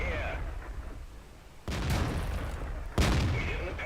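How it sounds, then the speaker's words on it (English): Two heavy tank cannon shots boom out in a World of Tanks battle, from a T69 medium tank. They come about a second apart, loud and close over a steady engine and battlefield rumble. "So T69 got 2 shots in and then has to reload."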